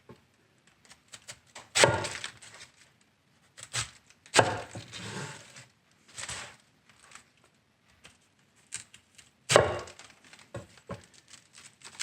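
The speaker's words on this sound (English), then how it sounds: "I'm going to trim these parts off so that the cabbage can go through the grater" Knife cuts trimming the tough parts off a garden cabbage before grating it for sauerkraut, a handful of sharp chopping thunks spread out with quiet pauses between them, close and fairly loud.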